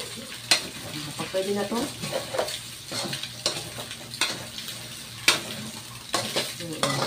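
Pork intestine adobo sizzles and hisses in a frying pan while being stirred, with repeated sharp utensil scrapes and clinks over a steady fry, and a voice briefly speaking nearby.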